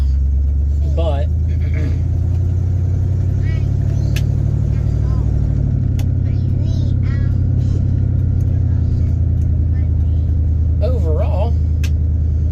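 Engine of a 1973 Cadillac Coupe DeVille runs in gear with a loud, steady low rumble held throughout while someone talks over it.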